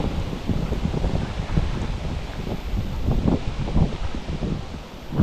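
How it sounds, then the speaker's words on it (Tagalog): Strong wind buffets the microphone in continuous low rumbling gusts, rustling loudly without any voices. "tignan mo hangin oh"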